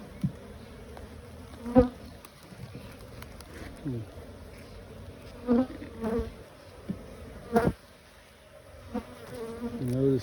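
Honey bees buzz steadily around an open beehive during an inspection, a soft continuous drone with a few louder close passes, while people talk quietly.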